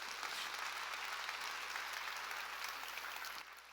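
A church congregation applauds during a sermon, producing a soft, even wash of clapping that holds steady and then drops off near the end.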